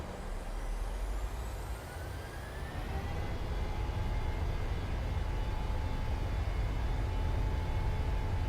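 An airplane engine roars through a takeoff in a flight simulator game, a loud, steady rumbling drone with a rising whine that builds and holds throughout.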